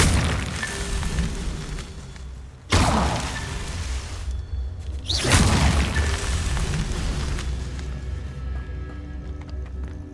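Casting the Incendio fire spell in Hogwarts Legacy sets off bursts of flame, two loud whooshing booms a few seconds apart over a steady game ambience, the second fading into a sustained roar.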